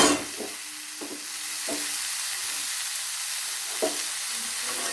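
Chopped tomatoes frying for a papaya curry, a soft continuous sizzle with a few faint clinks and scrapes of a spoon against the pan.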